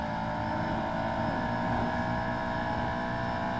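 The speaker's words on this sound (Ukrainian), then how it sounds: "Набираємо швидкість." An Audi S6 engine in the racing game Test Drive Unlimited accelerates with a continuous droning roar, its pitch sweeping upward and steady in loudness throughout, with no talking.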